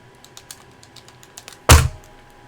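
Light computer keyboard typing, soft scattered key clicks at a distance, ending in one louder thump of a key or desk hit.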